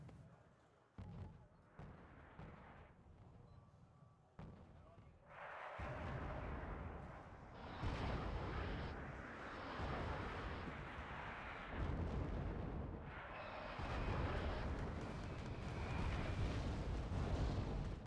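Artillery fire from the real-time strategy game Wargame: Red Dragon: heavy booming blasts and rolling explosion rumble come in repeated surges and settle into a sustained, dense barrage.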